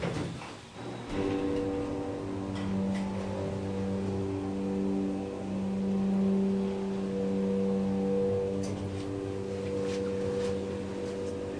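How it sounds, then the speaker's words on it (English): An Otis Lexan hydraulic service elevator motor hums steadily with a low tonal drone as the car rises, a constant mechanical whine with faint clunks near the start. "this thing has an epic motor, so let's listen to the motor going up."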